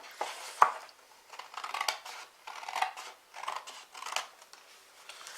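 Scissors snip through stiff cardstock along a score line in a series of short, crisp cuts with brief pauses between them, close and fairly quiet.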